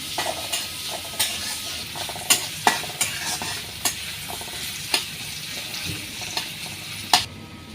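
Onions and green chilies fry in a pan under a constant sizzle, punctuated by a dozen sharp clinks and scrapes of a spoon stirring against the metal.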